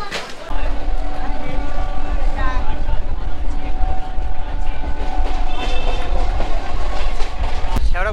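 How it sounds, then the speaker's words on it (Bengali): A local train pulls out of Sheoraphuli station on the run toward Tarakeswar, with a steady loud rumble and rattle of the coaches, squealing wheels and brief voices in the carriage under the din. "শেওড়াফুলি থেকে আমাদের ট্রেন ছাড়লো।"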